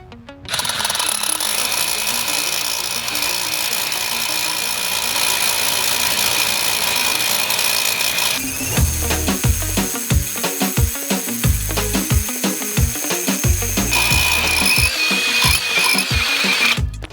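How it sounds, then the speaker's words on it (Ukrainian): A loud ProCraft HD 20A cordless hammer drill with a 20 mm bit whines steadily, then switches to rapid hammering percussion as it bores into reinforced concrete with granite chips, continuous and close, with no talking. "Бачите, більше, ніж на пів сверла засверлював, без проблем не відчуває"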